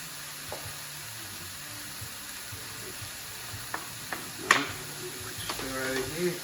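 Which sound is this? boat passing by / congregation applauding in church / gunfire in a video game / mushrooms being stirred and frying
mushrooms being stirred and frying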